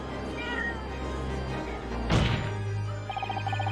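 A single clear cat meow rises over soft, looping background music in The Great Ace Attorney 2 video game.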